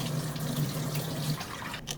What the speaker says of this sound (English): Add some cold water from the faucet.